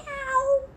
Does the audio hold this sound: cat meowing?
yes